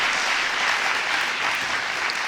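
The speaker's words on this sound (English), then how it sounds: "you give him a round of applause again" Steady, even audience applause for a jazz saxophonist at a talk-and-performance session, a continuous wash of many hands clapping at close range and moderate loudness.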